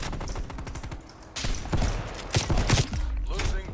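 Sniper rifle and gunfire in Call of Duty Cold War, a Halloween match: loud sharp shots and bursts cut through a busy battle mix, with several close cracks around the middle and end.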